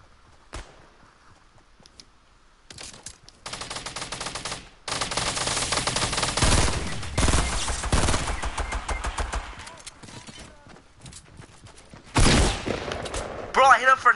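Rapid video game gunfire on PS4, with loud bursts of automatic fire in the middle and again near the end, against sparse sounds and brief shots earlier.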